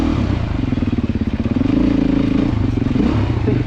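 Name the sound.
Beta motorcycle riding through the gears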